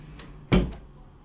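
A door swings shut with a single solid thud in a quiet room, followed by a brief faint knock and then stillness.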